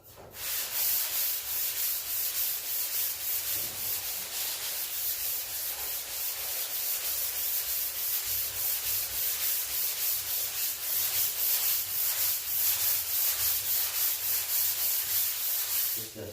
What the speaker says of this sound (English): it's taking a little bit longer to sand this